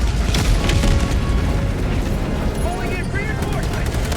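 Heavy artillery booms and bursts of gunfire rumble through a busy battle scene in the video game Helldivers 2, several explosions rolling one after another at close range amid chaotic noise.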